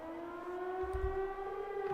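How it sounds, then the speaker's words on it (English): A civil defense style siren wails from a fort in the video game Trails of Cold Steel, one long, steady rising tone with strong harmonics, fairly loud and heard alone. "It sounds like a siren."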